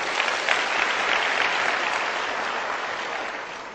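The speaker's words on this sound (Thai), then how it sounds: "ปรบมือให้พี่ตองหน่อยนะครับ" Audience applause at a motivational talk event, a steady dense clapping from a crowd that stays even and then tapers off gradually toward the end, with no talking over it.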